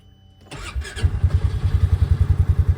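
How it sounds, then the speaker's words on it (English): A 2023 Polaris Ranger 570 SP side-by-side cranks briefly, then its engine catches and settles into a loud, close, rhythmic chugging idle that pulses steadily to the end. "Go ahead and hop in it. Still starts up just fine"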